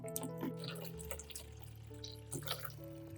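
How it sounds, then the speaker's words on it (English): Water runs and splashes into a large basin, a steady pour with small drips and splashes, close by, with faint background tones underneath and no talking. "Pour water into a large basin."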